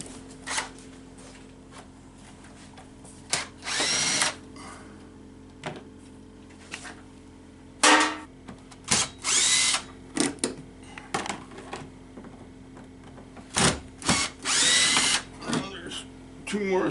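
Short whirring bursts from a power screwdriver removing screws from a Mercedes-Benz W124 heater blower, starting and stopping repeatedly, close by, with clicks and handling noise between them.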